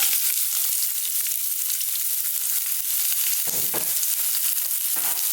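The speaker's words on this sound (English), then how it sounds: "So at this point, we're going to get in our onions." Onions frying in a hot pan with oil and spices for Indian tomato chutney (thakkali chutney), a steady loud broadband sizzle throughout with a few brief stirring scrapes near the end, no talking.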